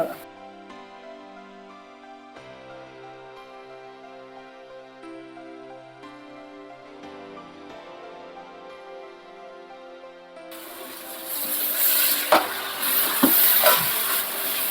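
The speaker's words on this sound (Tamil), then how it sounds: "நம்ம போட்ட புதினா, கொத்தமல்லி எல்லாமே வந்து அந்த எண்ணெயிலே நல்லா" Music plays for most of the stretch, then mint and coriander for a large chicken biryani start frying in hot oil. The sizzling is loud and crackling, with a few stirring clatters near the end.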